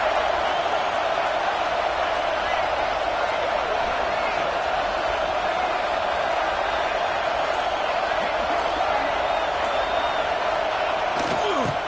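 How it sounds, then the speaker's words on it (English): A football stadium crowd roars at full throat, a loud, unbroken wall of noise that holds for the whole stretch, with a couple of brief knocks near the end. "This crowd, full throat, splitting the eardrums and letting them know it's going to be a long day."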